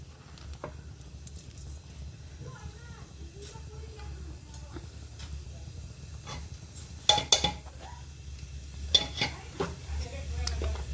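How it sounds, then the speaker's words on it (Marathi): Cumin seeds sizzle in hot oil for a tadka, making a low close crackle under soft talk, with a few pan and spoon clinks toward the end. "आपलं तेल तापले, आता आपण टाकूया जिरं"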